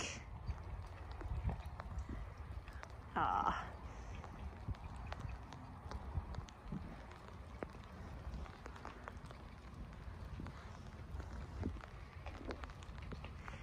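Horse hooves clip-clop in an equine arena: soft, irregular steps heard faintly at a distance against low background noise, with a brief louder sound partway through.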